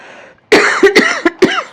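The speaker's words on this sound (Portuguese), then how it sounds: "Desculpem, tava com tosse." A woman coughs several times in quick, close succession, sharp loud bursts separated by short gaps after a brief quiet moment.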